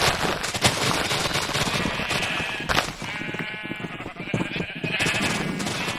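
Sheep bleating repeatedly in the Minecraft video game, close and fairly loud, layered over a dense, crackling game background with no talking.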